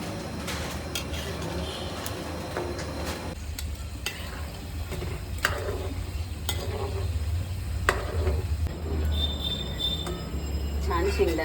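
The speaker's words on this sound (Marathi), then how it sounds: "आता त्याच्यात शेंगदाणे भाजते. चांगले खरपूस भाजून घ्यायचे त्यांना." Peanuts dry-roasting in a pan for Diwali chiwda give a steady, low sizzling rustle, with sparse scrapes and taps from stirring over a constant background hum.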